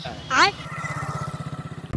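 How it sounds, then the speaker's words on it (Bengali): A motorcycle engine catches and settles into a steady, close putter of regular low pulses, with a brief voice and a rising whine just before it fires. "অন হয়ে গেল তোর বাইকটা"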